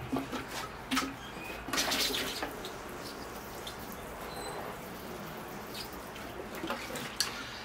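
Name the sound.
water poured on field maple seedling roots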